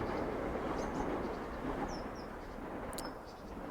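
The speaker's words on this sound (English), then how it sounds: "Sorry, it's the train." A passing train makes a steady, faint, distant rumble that fills the background, with a few bird chirps above it and no speech.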